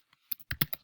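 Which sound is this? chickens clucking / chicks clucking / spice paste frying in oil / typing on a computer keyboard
typing on a computer keyboard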